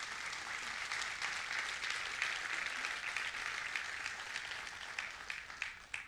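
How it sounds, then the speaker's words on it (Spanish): A church congregation applauds steadily during a sermon, a dense wash of clapping that holds for several seconds before thinning slightly at the end. "Dele un fuerte aplauso a Dios en esta mañana."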